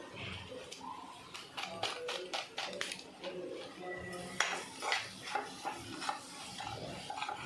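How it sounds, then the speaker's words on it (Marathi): Pav bhaji being mixed with salt and turmeric in a pan, giving a run of close metal scrapes and taps from a spoon or spatula against the pan, with a faint sizzle under the clatter. "मीठ आणि हळद आता त्यामध्ये टाकणार आहोत। मिक्स करून घेऊ।"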